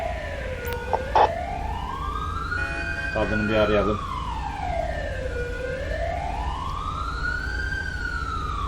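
An ambulance siren in the video game GTA 5 wails continuously, its pitch sweeping slowly up and down, with a brief spoken line and a few clicks partway through.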